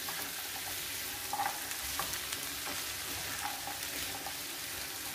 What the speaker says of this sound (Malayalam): നമുക്ക് നന്നായിട്ടൊന്ന് ഇളക്കി